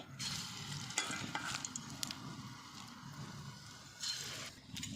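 Small prawn fritters fry in oil with a steady crackling sizzle, bursts of bubbling swelling as more batter drops in, close and moderately quiet, no voices.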